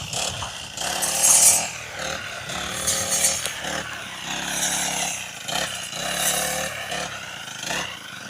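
Power trimmer cutting grass along rice field dikes, its small two-stroke engine droning steadily with repeated surges in pitch as the line bites into the grass, loud and close without talk.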